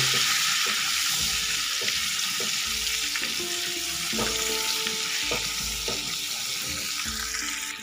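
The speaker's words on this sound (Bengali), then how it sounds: "এবার হলুদটাকে আলু পটলের সাথে ভালো করে মিশিয়ে নেব।" Potatoes and pointed gourd fry in a pan as turmeric is stirred in, with a steady close sizzle and rhythmic scraping strokes of the spoon repeating every half second or so, with no talking.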